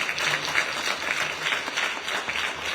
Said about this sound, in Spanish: pedirles un aplauso para Alejandra